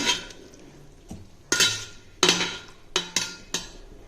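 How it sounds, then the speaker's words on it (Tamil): A long-handled metal ladle scraping and knocking against a pot of cluster beans in several sharp clinks and clatters, close by, with short pauses between strokes. "இது பெரிய காம்புள்ள கரண்டி வச்சு லேசாக கிண்டிக்கணும்"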